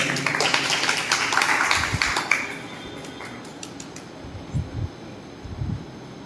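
An audience at a religious discourse in Delhi bursts into loud, dense applause for about two seconds, then it thins into scattered claps and rustling.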